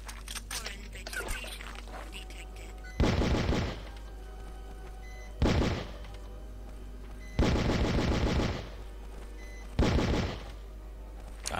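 Level 2 pistol fire from the video game Outcast rings out in four loud bursts of rapid shots, spaced a couple of seconds apart over a steady low background hum.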